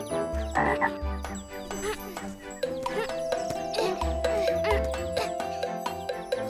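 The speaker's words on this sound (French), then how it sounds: "Sauter fait faire bruit à petite grenouille." A little cartoon frog croaks in repeated, close, bouncy bursts with a low thump under each, among tinkling children's-show music.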